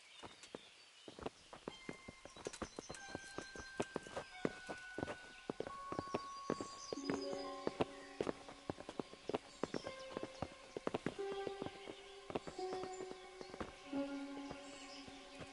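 Horses clip-clop along at a steady walk in the video game Kingdom Come: Deliverance, their hooves clear and close, with chiming tones sounding over the hoofbeats.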